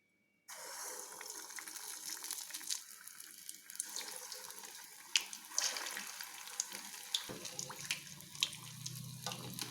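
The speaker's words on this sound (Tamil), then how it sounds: "இப்போ இதை வந்து நம்ம எண்ணெயில் போட்டு பொரிச்சு எடுத்துடலாம்" Batter-coated moong dal balls, sweet purnam burelu, frying in hot oil; a steady bubbling hiss starts abruptly and runs continuously with scattered crackles, fairly close.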